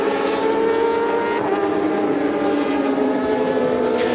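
Superstock 600 racing motorcycles, a Kawasaki among them, crossing the line during a British championship race, a loud sustained high-pitched engine whine with several bikes blending together and no voices.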